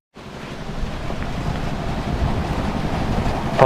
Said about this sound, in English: Oh, I know what the noise and the rattle is. It's the exhaust.